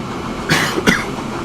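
Oil train with tanker wagons running in the railway sim game Transport Fever, giving two short rolling clatters of wheels over rail joints, moderately close against a steady background hum.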